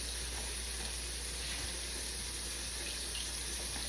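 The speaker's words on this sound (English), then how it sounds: "Just cleaning and rinsing these potatoes really well." Water from a kitchen tap runs steadily as potatoes are cleaned and rinsed for dinner, a constant hissing stream heard alone at moderate-to-faint level.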